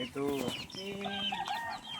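Chickens clucking and making short calls nearby, several overlapping vocalizations in quick succession, with a faint voice in the background.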